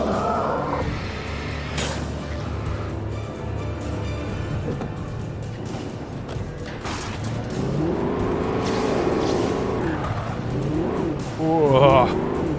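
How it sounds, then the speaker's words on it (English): A car drives in the Alan Wake video game with a steady engine drone, tire noise and a couple of sharp bumps, while a voice speaks over it and a sudden louder surge hits near the end. "the car."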